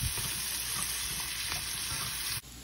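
Sliced onions sautéing in butter, a dense, close and loud continuous sizzle with faint stirring, dropping off sharply just before the end; no talking.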